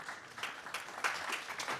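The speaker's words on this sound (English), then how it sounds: "A well-deserved applause." A conference audience applauds after a report presentation, a short burst of brisk, overlapping handclaps of moderate loudness without any talking over it.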